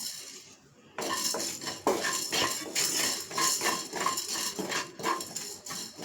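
Whole spices (black stone flower, mace, cinnamon, cardamom and cloves) dry-roasting in a pan, stirred with metal utensils that scrape and clink steadily and close up, with no talking.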